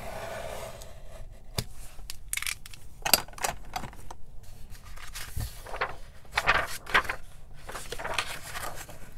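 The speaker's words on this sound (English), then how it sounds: "So I'll go ahead and just take my box cutter and cut the pages out." A box cutter slices out pages of a handmade paper junk journal, giving faint scattered scraping and clicking strokes with soft paper rustles, close and intermittent.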